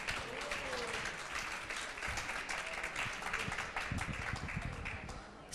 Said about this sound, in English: let's have a huge clap hands for FEP's team to organize this amazing Call to Europe event